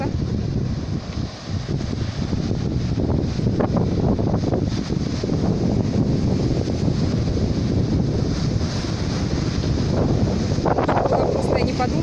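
Strong wind at a seaside beach in Lazurnoye buffets the microphone in a loud, continuous roar, with waves rumbling underneath and occasional gusts swelling throughout.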